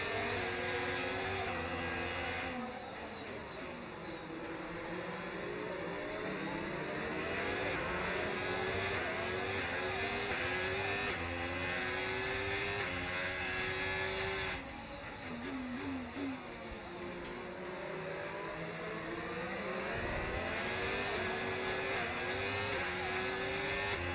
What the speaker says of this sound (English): The car is very tricky to drive in these conditions.